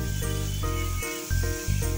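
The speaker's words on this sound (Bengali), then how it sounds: "2 মিনিট মতো আমি নাড়িয়ে নেব।" Onions with salt frying in a pan give a steady close hiss, broken by a few short scraping stirs, with no talk over it.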